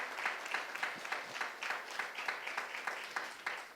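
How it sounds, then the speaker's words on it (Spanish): A church congregation claps in praise, a steady run of many hands heard fairly distant and moderately quiet, with the rhythmic beats slightly uneven across the room. "Déle ese fuerte aplauso al Señor."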